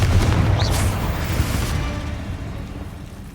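Spell explosions from Confringo and Bombarda in a Harry Potter video game, heard as a loud, deep booming blast at the start that rumbles and fades away over a few seconds.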